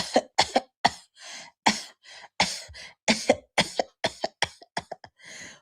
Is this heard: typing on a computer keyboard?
no